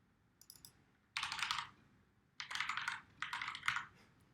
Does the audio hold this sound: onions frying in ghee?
no